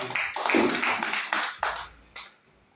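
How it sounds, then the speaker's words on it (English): Audience applause at a Rotary Club committee inauguration event, a short burst of mixed clapping that quickly thins into a few scattered claps and fades out. "A lot of applause for her."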